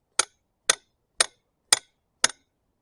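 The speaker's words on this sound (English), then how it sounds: "use the other end of the hammer, it'll be better." Five sharp, evenly spaced hammer strikes ring out loud and close, each a crisp metallic bang with a brief decay.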